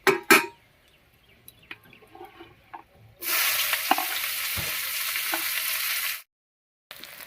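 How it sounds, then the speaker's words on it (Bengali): Chopped onions fry in oil in a pan with cumin, bay leaf and whole garam masala: a few scattered clinks and faint stirring, then a loud, steady sizzle for about three seconds that stops abruptly, close and without speech. "পেঁয়াজটা বেশ লাল লাল করে ভেজে নিয়েছি"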